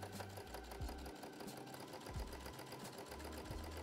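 Sewing machine top stitching binding on a corset-style top, a steady fast mechanical whir with rhythmic needle chatter and brief pauses and speed changes.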